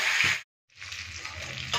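Fish head frying in hot oil in a home kitchen, a steady broadband sizzle that cuts out briefly to near silence, then resumes at a similar level with low pan rumble beneath.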